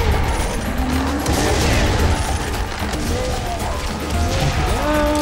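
Shotgun blasts and clanking mechanical noises in Serious Sam 3 come in heavy, repeated bursts amid chaotic game action, loud and close, with people talking over the mayhem.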